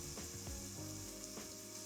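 Pumpkin puree added to a hot pan of vegan soup base, a faint steady sizzle with a few soft scraping and stirring knocks over it.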